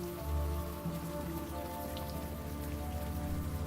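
Steady rain falls throughout a rainy Chinatown scene in the video game Unavowed, a dense, even patter of droplets hissing on surfaces without pause, with a low background hum beneath it.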